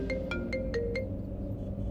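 A phone rings with five quick, evenly spaced electronic tones over a steady low background, close and clear, with no talking.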